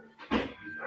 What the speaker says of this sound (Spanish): No es un perrito, profe, un labrador gigante.